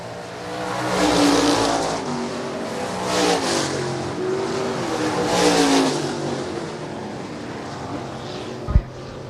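Stock cars roar around the Shelby County Speedway oval, engines swelling and fading as the pack passes in waves, with a loud continuous drone and a sharp knock near the end.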